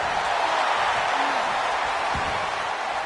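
A steady roar from a wrestling arena crowd in WWE 2K24, a dense, even wash of cheering that holds at one level for the whole moment without breaks.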